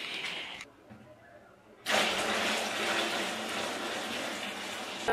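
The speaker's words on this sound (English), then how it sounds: "So it is time for me to take shower" Heated water pours steadily from a shower in a village home in Helambu, Nepal, a loud continuous rush that starts abruptly after a quieter stretch of lighter running water.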